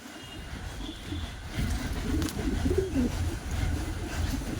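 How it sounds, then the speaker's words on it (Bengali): Several pigeons of a Kamargaar breed coo softly and continuously in a pigeon house, low throaty calls overlapping close by with no talk. "এবং কামারগাঁড় মাঝি কবুতরটা দেখো"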